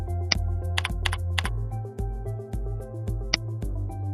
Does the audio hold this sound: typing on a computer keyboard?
yes